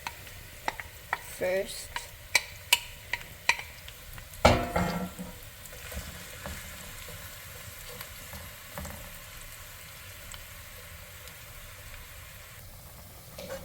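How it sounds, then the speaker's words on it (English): Onions sauté in a pan for stuffed bell peppers, with a soft background sizzle beneath a run of sharp utensil taps and clanks early on, and a brief spoken word. "we're going to saute our onions"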